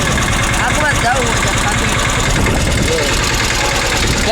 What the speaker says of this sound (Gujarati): ટ્રેક્ટર મિત્રો રિવર્સ જાય છે મિત્રો.